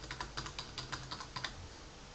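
A password is typed on a computer keyboard as a quick, even run of soft key clicks, close and fairly quiet over a faint background hum.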